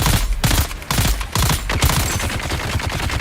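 Minigun fire in the video game Dune Awakening, a loud, close, continuous rapid rattle of shots with brief gaps between bursts, heard alone.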